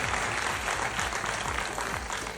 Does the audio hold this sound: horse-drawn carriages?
no